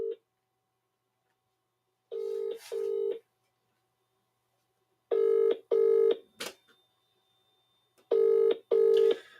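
A telephone call is placed and rings out unanswered: a short dialing blip, then three pairs of double-burst ring tones spaced a few seconds apart, clean and steady with silence between.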